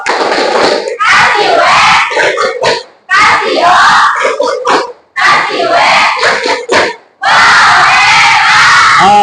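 A class of students in a mathematics lesson stands and performs the 'tepuk wow' clapping chant: loud, energetic group shouting and rhythmic hand claps in four bursts separated by short pauses.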